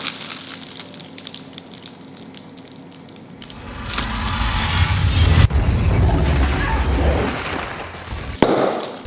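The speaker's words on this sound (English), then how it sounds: "And then straight into the air fryer or oven." Food is loaded into an air fryer and the appliance is set, with quiet clicks and handling at first, then a louder mechanical rumble and clatter as the basket slides in, ending in a sharp click.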